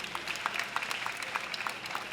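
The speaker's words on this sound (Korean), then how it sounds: "자리에 함께하신 모든 분들께 다시 한번 격려의 박수 부탁드립니다" Crowd at a teachers' rally applauding, dense continuous clapping from many people outdoors, even and sustained at moderate loudness.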